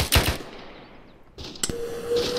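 Gunfire from a military field training exercise cracks in a few sharp bursts: two quick reports at the start, then more shots after a pause, with a lingering tone and distant noise between.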